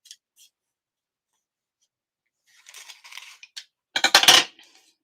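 Short, crisp snips and scrapes of a blade trimming a paper card to the edge during a craft session, quiet pauses between, ending in a louder burst of cutting.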